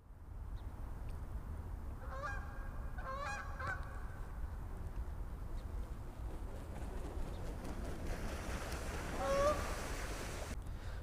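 Geese honk repeatedly near a carp fishing spot on open water, the calls bunching into two bursts early and returning as a louder, closer honk near the end over steady outdoor rumble.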